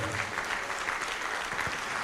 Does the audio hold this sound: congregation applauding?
yes